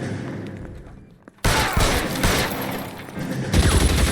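Sustained burst of BAR automatic rifle gunfire in the video game L.A. Noire, loud and close, with rapid rattling shots and a heavier volley near the end.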